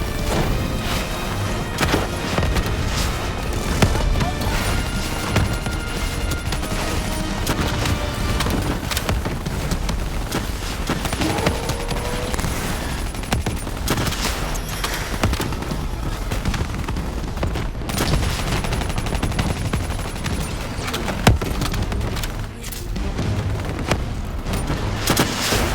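Dense, continuous gunfire in the Call of Duty Black Ops 3 campaign during a focused-fire fight, layered with booms and crackling impacts over a busy battle score, loud and unbroken throughout.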